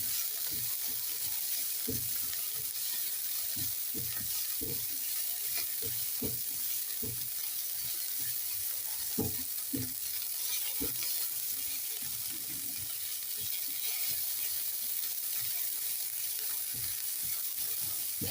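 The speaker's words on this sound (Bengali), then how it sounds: "এরপর আমি সবজিগুলোকে আবারও খুব ভালো করে নেড়ে চেড়ে নিচ্ছি।" Vegetables sizzle and fry in a wok while being stirred, a steady hiss of hot oil punctuated by repeated close scraping and clanking strokes.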